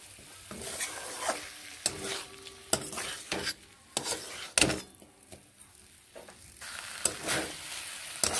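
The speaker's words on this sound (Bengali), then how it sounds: "এই গুঁড়ো দিয়ে আরও একটু এইভাবে মিশিয়ে কষিয়ে নিচ্ছি।" Ground fennel and chili powder with spices stirred in a pan along with pumpkin and malabar spinach; a spatula scrapes and knocks in irregular strokes over a low frying sizzle.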